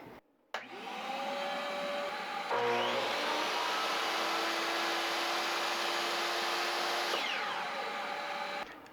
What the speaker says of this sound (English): So got the vacuum, and we got the miter saw.